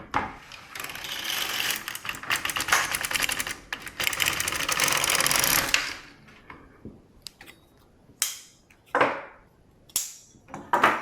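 A domestic knitting machine carriage knitting a row with the main yarn, giving a loud, continuous mechanical clattering sweep for several seconds, followed by quieter pauses and a few shorter, sharp sliding passes.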